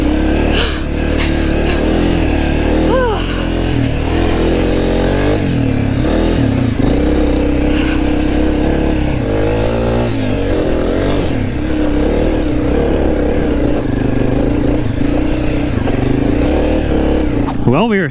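A new dirt bike on its first break-in ride revs hard and close, engine pitch rising and falling with throttle over a gritty rumble, with talk in places.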